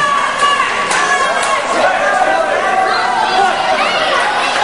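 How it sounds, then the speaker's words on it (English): A crowd at an indoor wrestling event in Winnipeg, Manitoba roars and chatters steadily and loudly throughout, with a commentator talking over the noise. "The crowd is sure showing their appreciation."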